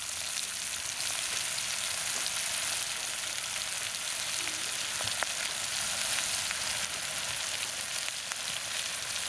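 Masala-coated sura fish frying in hot oil, a steady dense sizzle with faint crackles, continuous and close, no voices.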